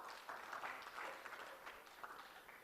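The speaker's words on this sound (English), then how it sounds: "Another round of applause, please." Audience applause at a national legal aid conference on access to justice, a steady, dense wash of clapping from a crowd that holds at an even level for a few seconds with a few louder swells.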